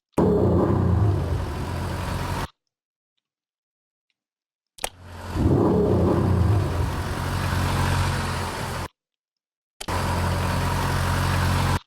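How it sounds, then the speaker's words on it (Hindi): Stock car-passing sound effect from Adobe Premiere Pro, playing as a steady engine rumble in three loud bursts separated by silent gaps, with no talk. "जो ये वाला साउंड इफेक्ट था जो कि स्टैटिक सा है, गाड़ी खड़ी हुई है, ऑल्दो ये इसका नाम कार पासिंग है"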